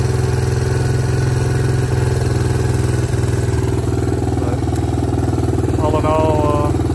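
A 1987 Honda Fat Cat 200 single-cylinder engine idles steadily and close up, with a continuous low chugging throb and clattery mechanical ticking throughout.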